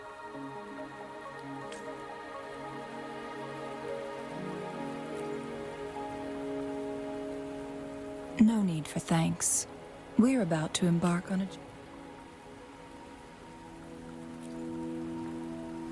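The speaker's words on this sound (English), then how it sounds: "Don't worry, the rain won't last much longer." Steady rainfall in the video game Wuthering Waves patters throughout, with a brief burst of animated voices talking over it midway before the rain continues alone.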